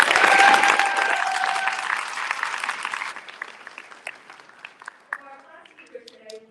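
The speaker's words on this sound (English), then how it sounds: "Give yourself another round of applause." Graduation audience at a high school ceremony applauding loudly, dense clapping that tapers off over about three seconds into scattered claps, with faint voices and a brief tone or cheer near the start.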